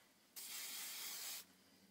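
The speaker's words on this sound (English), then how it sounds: "I like to do just a little bit of hairspray" A single steady burst of hairspray from an aerosol can aimed at freshly set heatless curls, a close bright hiss lasting about a second before cutting off cleanly.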